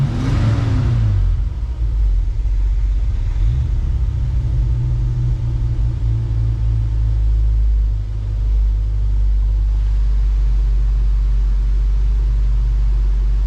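A 1966 Ford Mustang engine fitted with Sniper EFI idles loudly and close, a deep steady rumble with a brief rev at the start that settles into a low, even idle, no talking.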